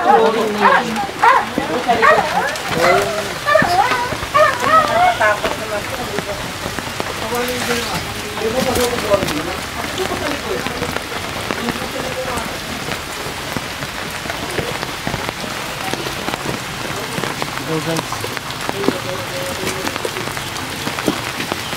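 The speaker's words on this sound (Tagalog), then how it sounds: "Laban natin ulan." Steady rain patters on surfaces all around, a dense even hiss with people talking over it throughout.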